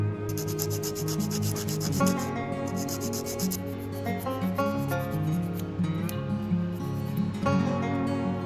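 Sandpaper rubbing steadily on the small handle of a tiny sword-shaped bookmark, a continuous close scraping with rhythmic back-and-forth strokes and no talking.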